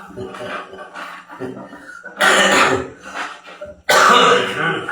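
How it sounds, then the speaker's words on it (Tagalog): A person coughs a few times, harsh bursts mixed with speech and throat clearing, close to the listener. "May ubo pa rin, konti."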